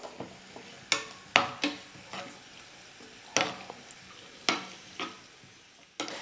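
Cashews and raisins frying in a pan for kesari, a soft continuous sizzle broken by repeated sharp scraping strokes of a stirring spoon at irregular intervals.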